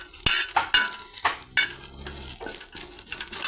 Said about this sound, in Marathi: असं मस्त लसण कांद्यामध्ये सारं भाजून घ्यायचं